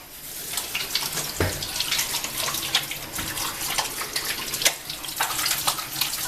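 Tap water runs steadily into a sink while hands are washed after buttering a cake mould, a continuous splashing stream with small bursts and no talking.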